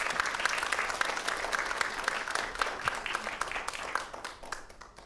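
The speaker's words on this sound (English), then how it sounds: "Please, let's give a round of applause for Jim." Audience applause following an introduction at a disability rights event, full dense clapping with crisp individual claps that gradually thins and fades toward the end.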